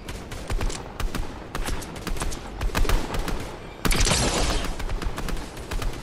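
Rapid bursts of video game gunfire crack in dense volleys throughout, loud and close, with a heavier, brighter barrage erupting near the end.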